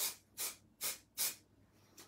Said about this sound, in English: you want to spray directly down, or you can sweep across if you've got a big surface to cover